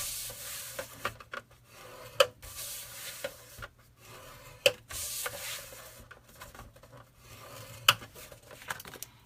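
Black cardstock insert for a gift card box is scored by hand, with soft scraping and rubbing strokes punctuated by a few sharp taps and clicks, close and quiet.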